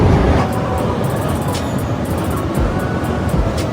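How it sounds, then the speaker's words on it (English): Subway train running underground, a loud steady rumble with rattling and brief high screeches, heavy low-end noise throughout at close range. "This is the subway."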